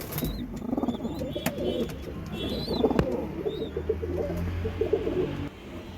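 Pigeons and their young in a loft give soft, continuous cooing and small chirps at close range, with faint knocks and rustling throughout.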